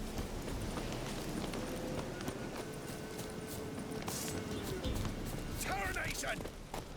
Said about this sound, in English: I find it funny you can actually trample neckers with a horse.